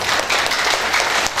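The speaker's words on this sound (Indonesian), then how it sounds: "Tepuk tangan untuk permari" A seminar audience at a rheumatoid arthritis talk gives a short burst of steady, dense applause, loud and close, with no speech over it.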